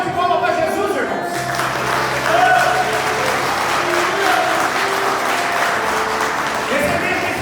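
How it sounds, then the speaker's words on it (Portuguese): A church congregation applauds at a Portuguese-language communion service, a sustained broad wash of clapping with crowd noise and voices mixed in throughout. "Uma salva de palmas para Jesus, irmãos."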